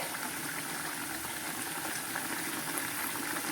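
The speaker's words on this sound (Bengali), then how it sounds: "ভেজে রাখা মাছগুলো দিয়ে দিচ্ছি এক এক করে" Fried pomfret pieces go into cooking masala in a pan, heard as a steady, even sizzle and bubbling hiss with no clear breaks for the individual pieces.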